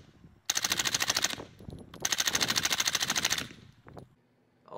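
A CZ Scorpion EVO 3 blowback submachine gun fires two loud, rapid bursts, each lasting about a second, separated by a short gap, with sharp, closely spaced reports and no talking.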